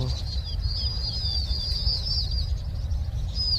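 Birds chirp and warble in quick, thin phrases over a steady low rumble of wind or flowing water outdoors, beside a fishing canal.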